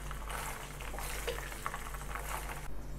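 Ayurvedic hair oil ingredients cook in a pot with a soft, steady bubbling and sizzle over a constant low hum, continuous and fairly quiet throughout.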